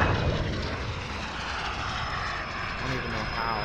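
VTOL aircraft engine in a Call of Duty multiplayer match, a steady broad roar of a hovering fixed-wing craft sustained throughout, loud and close, with battle noise and shouted voices mixed underneath.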